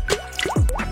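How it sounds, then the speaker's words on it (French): A few drops of red food colouring fall into a clear glass of water, making several close, hollow little plops and liquid squishes in quick succession. "Remplis un verre transparent d'eau et ajoute quelques gouttes de colorant rouge."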